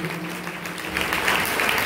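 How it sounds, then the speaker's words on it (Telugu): Sunday church service congregation in Chennai clapping loudly together, a dense continuous wash of applause that swells and grows stronger partway through. "చప్పట్లు కొట్టండి గట్టిగా."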